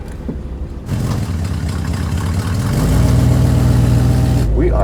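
A 1956 DeSoto Fireflite Indy pace car with a 330 V8 Hemi running close by, idling with a deep rumble before building into sustained louder revving with no talk.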